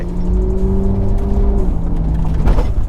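A Ferrari 458 Italia's engine drones loud and close from inside the car while driving, a steady low hum that shifts pitch slightly partway through.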